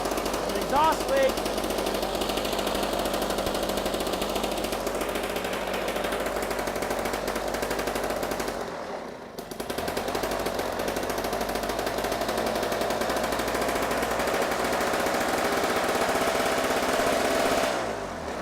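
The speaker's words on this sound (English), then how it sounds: "Started up on the first pull after I plugged in the carburetor, or plugged in the spark plug." An old John Deere snow thrower engine runs steadily just after starting, its rough, rapid chattering beat made harsher by an exhaust leak, loud and close throughout with a brief dip midway.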